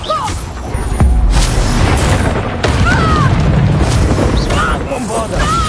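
In the video game Hogwarts Legacy, the Bombarda spell goes off as a heavy booming blast, with a loud impact about a second in and another crash later. Rumbling combat noise and a voice run over it.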